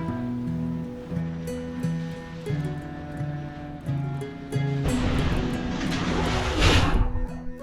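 Atlantic Ocean waves slap and wash against a trimaran's float under sail, with steady rhythmic wave tones, a building rush of water and hull noise, and spray surging louder near the end.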